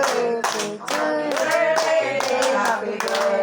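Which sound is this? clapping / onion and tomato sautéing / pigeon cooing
clapping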